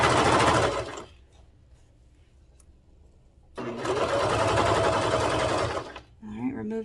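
A serger whirs in two fast, loud bursts separated by a quiet pause, with a voice speaking briefly at the end.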